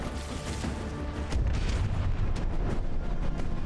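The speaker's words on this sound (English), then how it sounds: "all of these cannons are definitely alive and well" Battleship cannons fire in the naval combat game From the Depths, with heavy booming blasts overlapping into a dense, rumbling barrage and a stronger burst about halfway through.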